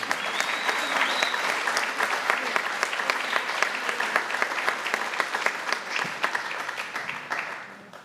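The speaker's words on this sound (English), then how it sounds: "Let's give them a round of applause." An audience at a high school FFA awards ceremony applauds an opening ceremony team, steady dense clapping for about seven seconds that gradually fades out.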